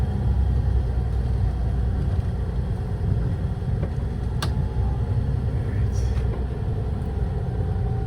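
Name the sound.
vehicle engine running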